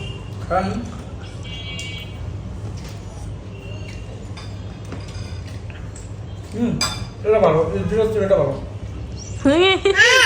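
Spoon clinking against a dish while eating street food at Lalbagh Fort, a few light, bright taps and clinks among chatting and laughing voices.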